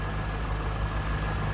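A 1998 Chevrolet Corvette pace car convertible with a 5.7 liter LS1 V8 idles steadily under an open hood, a smooth, even low hum with no voices.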